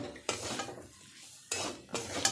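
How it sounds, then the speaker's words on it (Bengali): Spiced filling for Kabul roll being stirred in a pan, with scraping bursts of spoon against metal separated by a quiet pause, close and moderately loud, with a light sizzle. "খুব ভালোভাবে এটাকে আমি নেড়ে নেবো"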